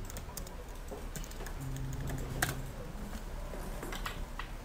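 Keys on a computer keyboard are pressed for a Ctrl and X shortcut, giving scattered close plastic clicks and taps against a faint background hum, with no talking.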